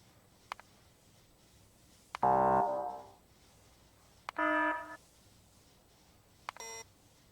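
Three short alarm tones play one at a time, each separated by quiet and a small click, as alarm sounds are previewed in Factorio: a rich buzzing tone, then a brighter beeping chime, then a thin high electronic bleep.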